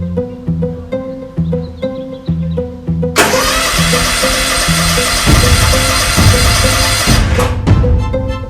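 A 2020 Cub Cadet Ultima ZT1 50-inch zero-turn riding lawn mower cranks over in rhythmic starter pulses, then catches and roars loudly into a steady close running engine noise.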